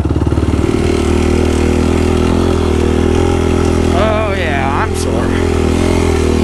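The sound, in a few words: Yamaha YFZ450R quad engine riding on sand dunes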